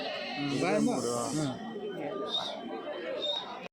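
Goats bleating amid the crowd at Kadiri's weekly livestock market, a few wavering bleats standing out over steady chatter while someone talks nearby.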